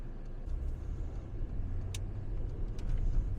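Car driving through residential neighborhood streets in Norman, Oklahoma, a steady low road rumble heard from inside the car with a few faint higher clicks, with no talking.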